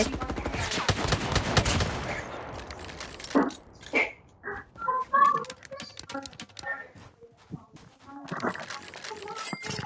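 Gunfire in the mobile shooter game Call of Duty Mobile: rapid bursts of sharp shots crowd the opening seconds, then sporadic reports as a player talks excitedly over the game sounds.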